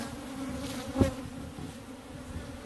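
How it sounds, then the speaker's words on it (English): African honeybees (Apis scutellata) drone steadily at an open hive, a dense close buzz of many insects with one brief louder pass near the mic, and no talking. "You know, Robert, that's worth opening this hive to see"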